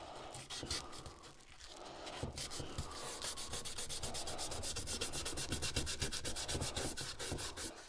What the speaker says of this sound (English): I will just resand around the edge here just to tidy it up